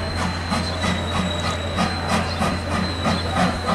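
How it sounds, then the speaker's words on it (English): A Thomas the Tank Engine train ride at the Strasburg Rail Road rolls along with a rhythmic clickety-clack of wheels on the rails, a steady hum and a faint high whine, loud and close with no talk. "Their train ride's almost over."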